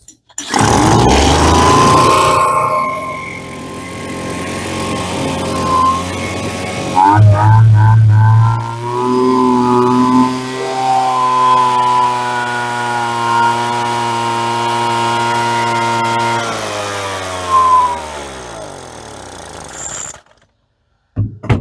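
An old Hitachi chainsaw engine, likely on stale fuel, sputters to life and runs rough at idle, a loud close buzzing drone that wavers and surges unevenly before cutting out.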